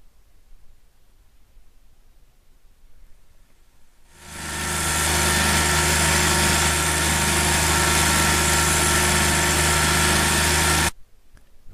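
A Brenco 4D36-36 four-drum hydraulic puller's engine starts after a quiet stretch, swells to a loud, steady droning run, then cuts off abruptly near the end.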